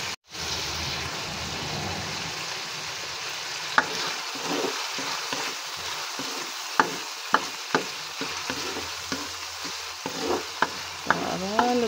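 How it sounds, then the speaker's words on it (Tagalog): Sardines sautéing in a hot pan, a steady close sizzle broken by sharp irregular clicks and scrapes of a utensil stirring, with no talking. "Gisa ko muna yung sardinas."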